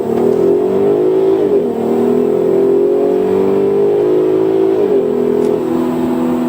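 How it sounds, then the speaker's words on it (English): A Volkswagen R32 4MOTION car pulls away in first gear with a smooth, steady engine hum that climbs in pitch, eases at a shift-like dip, then climbs again. It is heard from close by, with no talking. "we're rolling in first gear."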